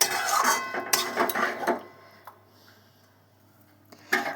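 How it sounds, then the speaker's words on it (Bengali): A spoon clinks and scrapes against a cooking pot as chicken is stirred for chicken kosha. A cluster of sharp metallic knocks comes first, then quieter taps and a final clank. "এবার আমি একটু নেড়ে ছেড়ে দিচ্ছি চিকেনটা।"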